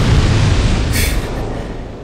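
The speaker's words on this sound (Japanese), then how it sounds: "余計な爆発。" An explosion in Dark Souls 2 gives a loud, sustained low rumbling roar with a brief bright crackle partway through, filling the whole moment without speech.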